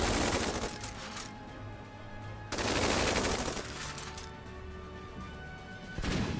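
Units open fire in the strategy game Tiny Metal: Full Metal Rumble, loud bursts of gunfire and crashing impacts in two heavy waves with a short lull between them.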